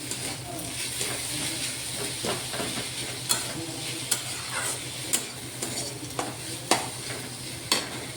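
Ginger, green chili, curry leaves and a little coriander stirred in a hot pan for poha, steady sizzle of frying with a spoon scraping and clicking sharply against the pan at a regular pace toward the end.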